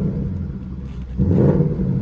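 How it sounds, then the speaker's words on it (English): A 2021 Ford Mustang GT coupe's 5.0L engine idles with a low rumble, then gives one short, moderate rev that swells and settles back, heard up close from inside the car. "We'll give it a little rev here."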